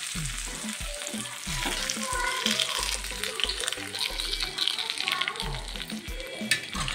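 A sizzling tempering is poured into moringa leaf dal with steady crackling and frying hiss, punctuated by low knocks of a spoon or pan, close and fairly loud.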